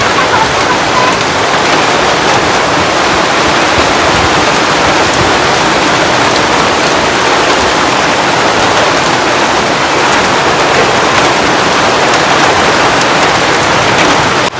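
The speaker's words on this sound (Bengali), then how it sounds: "এখন এলো বৃষ্টি দেখেন কি অবস্থা" Heavy rain pours in a loud, unbroken roar, a dense wash of drops hammering surfaces nearby with no voices over it.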